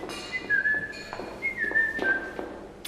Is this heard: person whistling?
yes